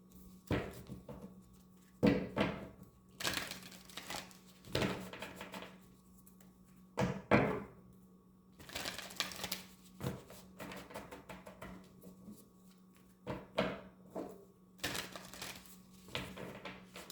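Tarot cards being shuffled and drawn, a quiet series of soft papery slaps and riffles in irregular bursts, close by, with faint background hum.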